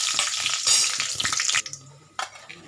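Whole spices dropped into hot oil for a cauliflower gravy, crackling and sizzling loudly for about a second and a half, then dying to a quieter bubbling with a short stirring clatter and no speech.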